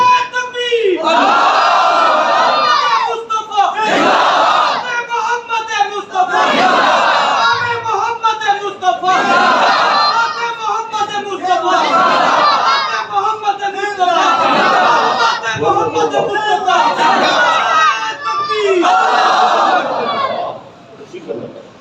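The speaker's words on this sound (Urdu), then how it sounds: "نعرہ مارو تو صحیح نعرہ مارو" A large crowd at a religious gathering shouts a slogan in repeated loud rhythmic bursts, roughly every two seconds, with one voice leading each call and the mass answering in unison.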